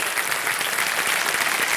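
Dense, steady audience applause in a game-show studio welcomes guest Padma Shri Prakash Singh, former DG of BSF, filling the short stretch without pause.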